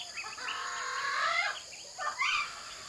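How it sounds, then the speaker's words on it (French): Birds chirp and whistle in bright, overlapping calls, with a short clucking burst among them, fairly close. "Les oiseaux pépitent, sifflent et caquettent."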